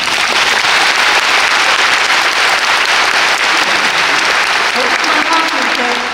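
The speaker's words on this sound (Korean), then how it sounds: "우리 세종문화회관에 다시 한번 큰 박수" An opera audience at Sejong Center concert hall in Seoul gives a loud, dense round of applause from a large crowd, continuous and close, with a voice faintly underneath.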